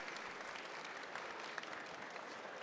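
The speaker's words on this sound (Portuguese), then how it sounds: "Uma salva de palmas, gente, para esse grande brasileiro aqui" Sustained applause from a conference audience at a Brazilian panel event, a steady dense wash of many hands clapping at an even level, distant and fairly quiet, with no talk over it.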